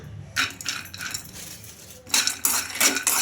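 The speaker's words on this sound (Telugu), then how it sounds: "ఇంకా స్టవ్ అయితే ఆన్ చేసుకొని కడాయి పెట్టేసుకొని ఇంకా అందులోకి పల్లీలు అయితే వేసుకుంటున్నా" Raw peanuts tumble into a kadai pan set on a stove, giving two clusters of dry clattering pings and rattles: a short scatter first, then a louder, busier run of clinks after a pause.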